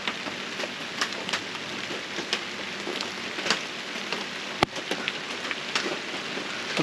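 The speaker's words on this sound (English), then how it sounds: "Let's see how long this rain's going to last." Steady rain patters down outdoors at a workbench build site, a dense even hiss with scattered sharper drop hits and one crisp tap, moderately loud with no voices.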